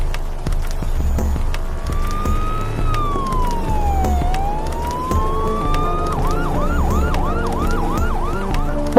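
A siren wails loudly nearby, sliding up and down in pitch, then switches to a fast repeating yelp over steady traffic rumble.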